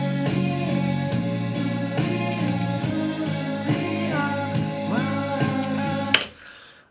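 The hook of a song plays as dense full-band music with steady sustained tones and rhythmic pulses, loud and continuous before ending abruptly.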